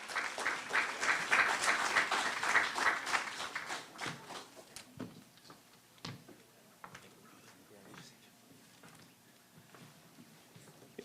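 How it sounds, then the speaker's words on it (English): Audience applause at an Atlanta NAACP jubilee celebration, a dense burst of clapping that swells for the first few seconds, then thins out into scattered claps and fades. "So give him a round of applause"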